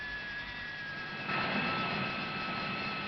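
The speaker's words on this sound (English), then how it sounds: "Quickly it lowers the landing gear and makes a vertical landing in what looks like the middle of nowhere." A 1989-era Harrier GR3 jet makes a vertical landing in open country, its steady whining roar growing louder and fuller partway through and then holding at a constant level.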